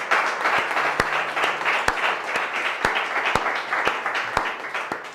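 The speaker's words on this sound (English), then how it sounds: "Give her a round of applause." Audience applause at a spoken word event, a steady wash of many hands clapping for about five seconds, with a few sharp louder claps standing out near the microphone.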